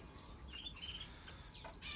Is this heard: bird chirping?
yes